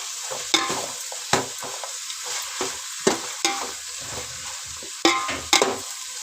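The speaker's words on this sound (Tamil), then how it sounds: "இப்போ மட்டன் நல்லா மசாலாவில் டிக் ஆகணும்." Mutton frying down in a thick masala for biryani hisses steadily in a pan, broken by repeated scraping stirs of a ladle, close and fairly loud with no talking.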